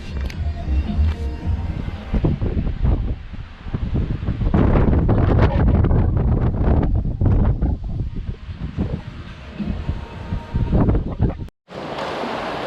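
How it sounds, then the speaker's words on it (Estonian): Strong wind roars into the microphone on a seaside shore in Spain, a loud continuous buffeting rumble with gusts that swell and ease, with no talk. "tuul on kõva, nagu kuulete"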